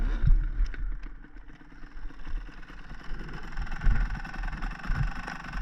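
A dirt bike engine rumbles and surges unevenly as the rider throttles up to jump a log, rising and falling in bursts at moderate distance.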